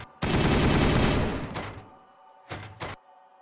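Gunfire in a Warhammer 40000 battle between Dark Angels and Ultramarines: a loud sustained burst of rapid automatic fire for over a second, fading, then two short sharp bursts close together near the end.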